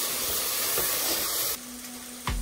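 Maggi noodles frying in a pan give off a steady hiss and sizzle, with a clack of the utensil partway through and a sharper knock near the end.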